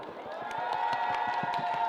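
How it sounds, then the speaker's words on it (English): An audience at a freediving panel discussion claps steadily and fairly close, with a murmur of crowd voices underneath. "So everyone can give me a big clap."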